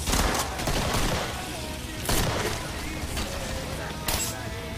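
Rapid gunfire in the video game Killing Floor, dense bursts of shots fired at enemies with a few heavier blasts, loud and sustained throughout.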